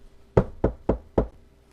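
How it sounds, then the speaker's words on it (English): Four sharp knocks on a window, evenly spaced and close, with silence before and after. "suddenly he hears a knock on the window."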